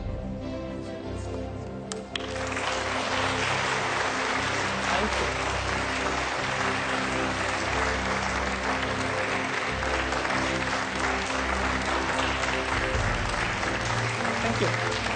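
Sustained, steady applause from a debate audience in 2017 builds after a brief quiet start and keeps going evenly for over twelve seconds, with a faint voice underneath at the outset.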